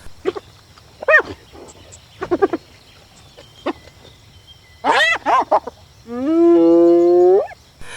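Hyenas squabble with bursts of yelps, whoops and growls, several calls overlapping, ending in a long drawn-out whining cry.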